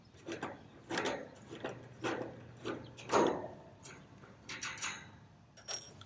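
A 1/4-inch socket ratchet loosens panel screws on a Lennox air conditioner condenser, giving short repeated clicking bursts in a steady rhythm, close by with no talking.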